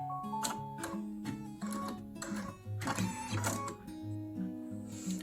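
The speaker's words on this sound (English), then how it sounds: "your mirror is being stitched in so it won't move" An embroidery machine stitching a compact mirror into place on a fabric lippy purse, with rapid mechanical ticking and whirring stitch bursts that pause and restart, close and moderately quiet.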